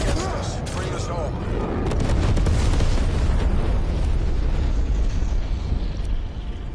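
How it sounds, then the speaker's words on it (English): A napalm strike in a shooter video game: a sustained, roaring wash of fire and explosion noise that swells and holds for several seconds, dense and loud, with gunfire crackling through it and game voices. "Napalm strike incoming."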